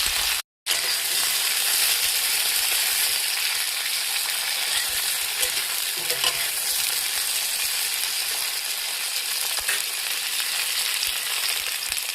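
Vegetables frying in oil with panch phoron, turmeric and salt, a dense, loud, continuous sizzle held up close for the whole stretch, broken only by a brief cut near the start and a faint clink partway through.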